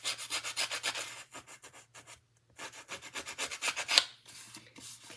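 Paper edges being distressed by scraping with closed craft snips while making a vintage-style stamped card, a run of quick close rasping rubs in bursts with a brief pause midway.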